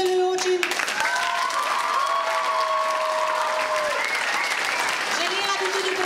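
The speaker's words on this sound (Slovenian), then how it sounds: "da še enkrat zaploskamo vsem našim sodelujočim" A hall audience claps steadily at the close of a community stage performance to thank the participants. The applause is loud and sustained throughout, with a few tones and voices mixed in underneath.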